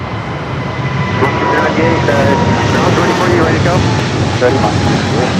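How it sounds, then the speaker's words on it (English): A China Airlines Boeing 777 cargo jet moves toward runway 25 at LAX with a continuous, fairly loud engine rumble and whine, while people talk throughout. "Still have that China Airlines runway 25 Cargo 777 now heading over"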